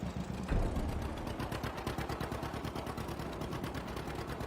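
A John Deere Model A tractor's engine in a video game mod, running with a rapid, even pop-pop-pop beat that keeps going throughout, close and fairly steady, with no talking.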